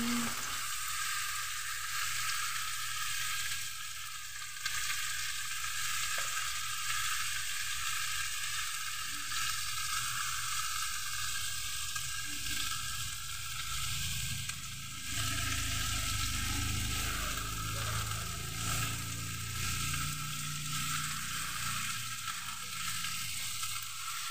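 Garlic frying alongside pork ribs in a hot pan, a steady close sizzle with occasional stirring scrapes running continuously throughout.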